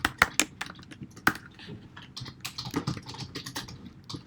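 Code being typed on a computer keyboard, a quick run of close, crisp keystrokes with short pauses between bursts, no voices.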